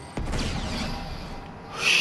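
A bomb goes off in the action game Uncharted 2 with a sudden, loud blast, followed by a sustained rumbling roar that fades slightly before swelling again.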